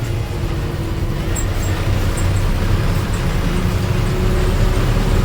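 Inside a moving bus cabin, a loud, steady engine drone blends with rumbling road noise, an unbroken low roar that holds constant throughout with no talking.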